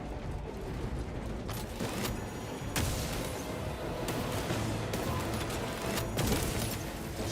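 Gunfire in the Space Marine 2 co-op game cracks in scattered sharp bursts over a dense, busy backdrop of mechanical combat noise, with no one speaking.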